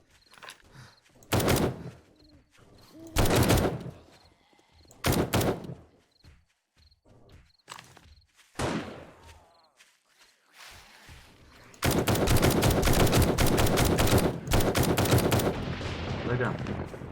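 Bursts of gunfire from a gun in the video game 7 Days to Die, several separate loud volleys followed by a sustained rapid burst, with a few quieter thuds between.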